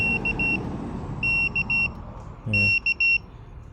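A motorcycle anti-theft alarm remote gives three bursts of rapid high-pitched electronic beeps, each a quick stuttering group of tones, over a low background rumble.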